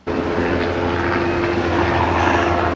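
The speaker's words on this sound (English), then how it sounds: "Helicopter just took off." Steady, loud engine roar with a low droning hum, constant throughout as a helicopter takes off nearby, ending abruptly.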